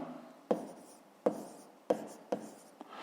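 Pen writing on paper while noting down the answer to a 5th grade math exercise: four or five quick, sharp scratching strokes in an even rhythm, close and fairly quiet, with no voice.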